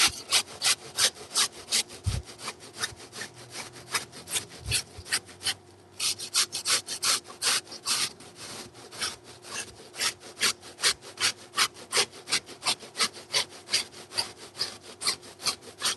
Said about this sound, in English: Next, I will start grating my zucchini.